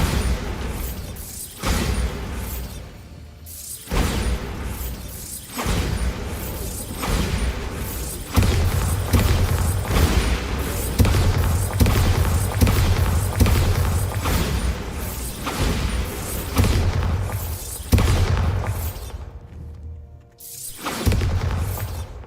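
Repeated Bombarda spell blasts in the video game Hogwarts Legacy, booming and thudding explosions with shattering debris, loud and dense, coming in quick succession over continuous game action with no talk.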